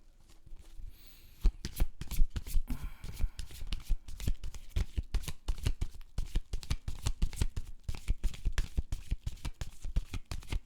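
Tarot cards are shuffled by hand in a quiet room, a rapid run of crisp riffling flutters and taps starting softly, then growing dense and rhythmic, with no talking.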